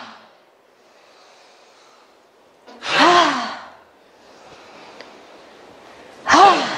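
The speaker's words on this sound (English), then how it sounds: "Inhale." Two deep, forceful breaths during qigong breathing practice, each a loud, close rush of air a few seconds apart, with quieter breathing between them.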